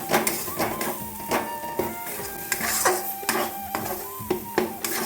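A metal spoon scrapes and knocks in a pan as ground green-pea paste with a pinch of salt is stirred and dry-roasted into a snack filling, giving irregular scraping strokes and light clinks, close and fairly steady, with no voices.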